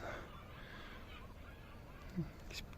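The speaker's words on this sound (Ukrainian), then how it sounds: "пташки кричать" Faint outdoor ambience in spring by a river in Vinnytsia, Ukraine, with distant birds calling, a short honking cry standing out near the end against a quiet background.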